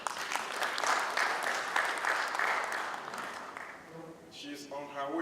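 An audience at a Melbourne conference applauds as a speaker walks to the podium. The clapping is steady and dense, then thins out as a voice begins talking near the end.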